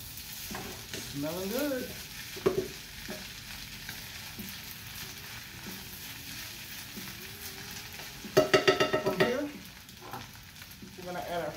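Egg is stirred and broken up in a hot wok for spicy Thai basil fried rice, with a steady sizzle under scraping spatula strokes and a short burst of louder clattering near the end, while a voice briefly comments.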